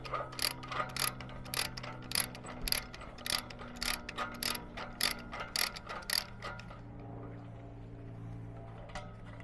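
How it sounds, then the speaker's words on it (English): A lorry chain tensioner being ratcheted to secure and loosen a load chain: a steady run of about a dozen sharp metallic clicks at an even pace, close and loud, then the clicking stops and a low hum continues. "So we're just going to push the clip back through and start ratcheting it again"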